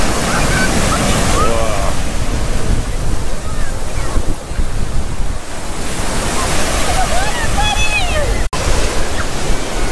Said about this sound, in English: Here comes the big waves.